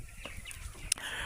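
Farm chickens being given water and guava leaves cluck nearby, a short burst of fowl calls over a low, steady background.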